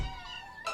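A cartoon kitten gives a short, clear meow, close and alone, with a second brighter mew right at the end.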